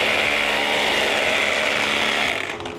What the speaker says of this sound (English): we can just core bit a hole through